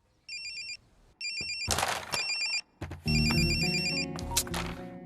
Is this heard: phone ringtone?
yes